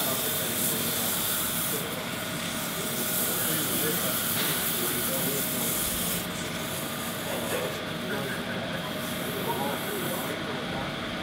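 A wooden Scottish stirring stick turned on a lathe is sanded with 240-grit paper, a steady hissing rub that runs continuously while a person talks over it.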